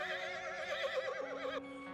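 A horse in the survival video game Rust gives a loud, clear whinny with a wavering, shaking pitch that cuts off sharply, leaving a low steady tone behind, with no talking.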